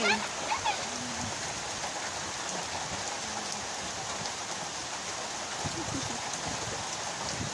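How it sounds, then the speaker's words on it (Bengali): Steady rain falls during a thunderstorm, a continuous wash of drops on surfaces with brief voices now and then over the patter. "আজকে অনেক দিন পর রহমতের বৃষ্টির দেখা পেলাম"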